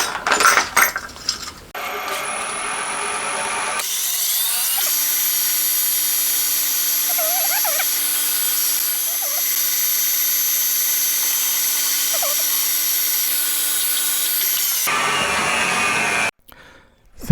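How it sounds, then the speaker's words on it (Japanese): A center drill runs through a cast cylinder head for a 125cc four-cylinder 16-valve engine with a steady high whine and mechanical hum, a continuous metal-cutting tone with occasional squeaks, preceded and followed by workshop noise. "では、まずはセンタードリルと、"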